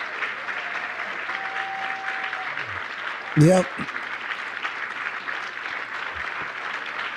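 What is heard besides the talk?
audience clapping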